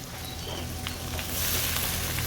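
Chopped onion and tomato frying in a pan for chana masala make a soft, steady sizzle with faint stirring sounds, fairly quiet and close.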